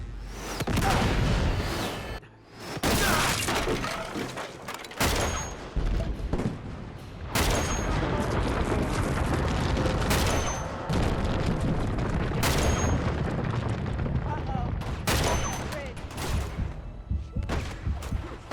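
Repeated gunshots in Uncharted 2, about five sharp sniper rifle reports spaced a few seconds apart, each with a booming tail. Dense battle noise rumbles steadily between them.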